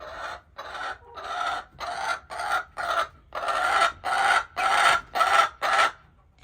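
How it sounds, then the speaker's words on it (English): Backyard chickens clucking and crowing, a close, loud series of about a dozen rhythmic drawn-out squawking calls separated by brief pauses, with no talking. "And chickens can be very noisy."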